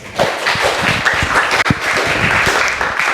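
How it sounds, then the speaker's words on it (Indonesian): Vocational high school students in a classroom clap hands together on cue, loud and close, with sharp individual claps and thumps standing out from the dense clatter. "Tepuk tangan lagi."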